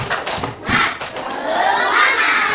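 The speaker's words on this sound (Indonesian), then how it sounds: "Biar belajarnya semangat, kita tepuk semangat dulu ya" A school class doing the 'tepuk semangat' clapping chant, a burst of children's voices and claps together. The shouting is loud and close, with the chant swelling toward the end.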